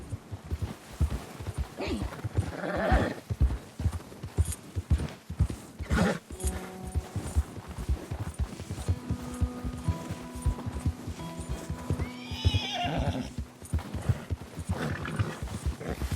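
Rapid clip-clopping hooves of a horse in snow in the video game Red Dead Redemption II plod on steadily, broken by a couple of loud whinnies, with a faint tonal hum underneath.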